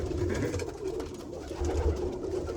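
Birmingham bullhead roller pigeons coo close by, low throaty coos repeating in short bursts with no talk over them.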